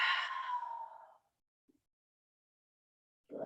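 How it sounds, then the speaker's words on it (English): A deep, sighing exhale during a seated forward stretch, breathy and close, fading over about a second, followed by silence and the start of another breath. "We'll take about 5 breaths here."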